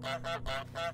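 Cartoonish goose honks from Untitled Goose Game, a video game: three loud, nasal honks in quick succession, close and clear with no talking.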